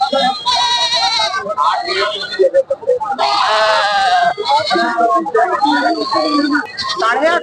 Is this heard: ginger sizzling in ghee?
no